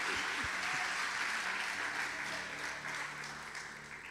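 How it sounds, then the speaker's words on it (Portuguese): Church crowd applause, a dense sustained wash of many hands clapping that slowly fades, with a few low thumps near the start. "a salva de palmas"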